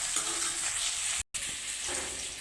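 Tomato and onion with curry leaves stirred in a frying pan for fish curry, giving a steady close sizzle with scraping strokes, cut by a brief silent gap midway.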